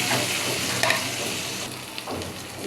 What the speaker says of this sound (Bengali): এই যে পেঁয়াজটা ভাজিয়ে নিছি